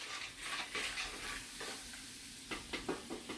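Spoon stirring flour into browned ground sausage gravy in a pan, soft scraping strokes in bursts over a faint continuous sizzle, close and quiet.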